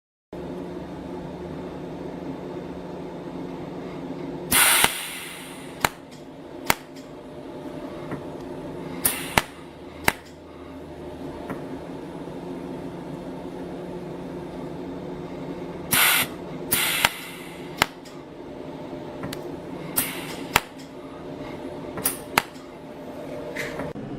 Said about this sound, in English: Perform welding with the electrode positioned vertically between the welded edge and the protruding welding rod.